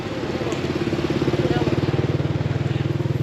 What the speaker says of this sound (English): Motorbike with no light